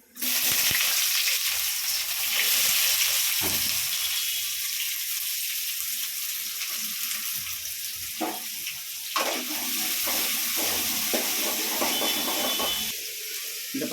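Onions fry in a pan with whole spices for a tomato rice dish, giving a loud, continuous hiss and sizzle with shifting bursts and a few clanks, close up and without speech.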